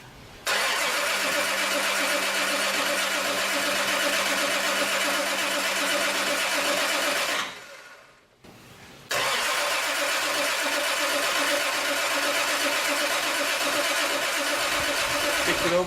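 A Toyota 2JZ engine cranks and fires, then runs loud and steady. It cuts out briefly, restarts and settles back into a continuous running drone, up close with nobody speaking.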